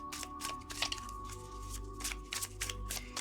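Tarot cards are shuffled by hand in a quiet room, a soft steady riffling and sliding with small snaps, with no talk over it.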